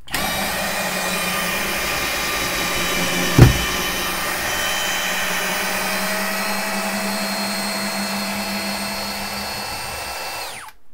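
A HOTO smart electric screwdriver, rated at 30 Nm with pulse mode and electronic clutch, runs steadily while backing out a long screw, producing a continuous close motor whine for about ten seconds with one brief knock early on before it stops.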